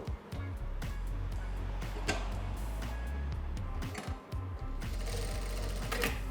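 A JACK A3B-C direct-drive sewing machine stitches a programmed 16-stitch pattern, running in loud rapid mechanical bursts with brief pauses and ticking clicks, ending with a thread-trimming stop.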